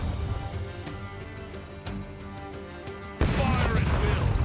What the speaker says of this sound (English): Let's specifically fire on the cannon they're attacking with.